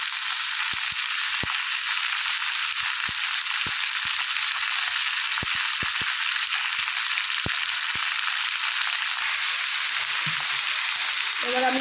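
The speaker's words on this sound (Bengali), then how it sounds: "হালকাভাবে সবজিগুলো একটু ভেজে নেব" Vegetables lightly frying in a pan for a Bengali fish curry, giving a steady bright hiss with scattered sharp pops and crackles throughout.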